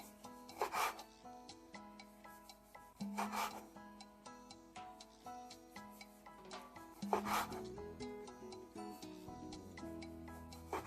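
A knife cuts eggplant into thin rings on a board, three distinct rasping slices spaced a few seconds apart, with soft tonal music playing underneath.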